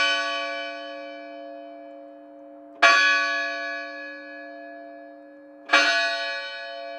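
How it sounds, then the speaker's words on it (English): A loud church bell strikes three times at slow, even intervals, each stroke ringing out and fading in a long shimmering decay. "The chimes took up the words so suddenly, burst out so loud and clear and sonorous"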